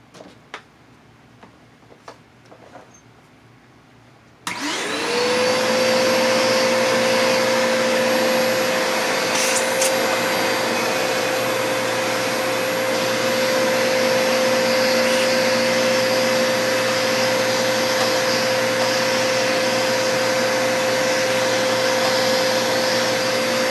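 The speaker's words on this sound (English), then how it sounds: "And next I'll take the vacuum cleaner." A vacuum cleaner switches on after a few seconds of quiet clicks and handling, then runs loud and steady with a constant whine while clearing metal burrs and filings from a Kenwood audio component.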